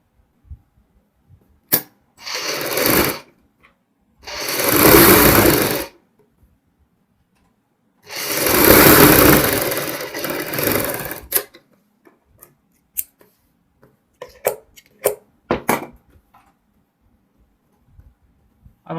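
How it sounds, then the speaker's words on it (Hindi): A sewing machine stitching a kurti neckline along buckram runs in three loud, steady whirring bursts, each lasting one to three seconds, followed by a scatter of sharp clicks and taps, close and with no talk. "अब हम बुकरम के साथ साथ सिलाई लगाएंगे।"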